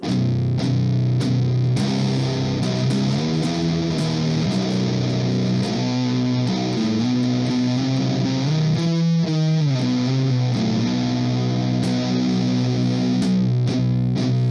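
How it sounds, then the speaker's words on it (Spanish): An electric guitar played through an unmodified Boss Metal Zone MT-2 distortion pedal gives a thick, heavily saturated tone, with a loud continuous run of chugging riffs and sustained chords and no talk. "vamos a empezar escuchando un poquito el MT2 sin modificar"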